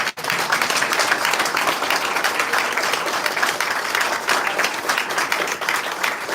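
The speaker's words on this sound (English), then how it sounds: "I want to give a huge applause to the two of you for agreeing to do this" Audience applause following a keynote discussion on preventing right-wing populism, sustained and even clapping from a large crowd that starts abruptly and carries on at a steady level for several seconds.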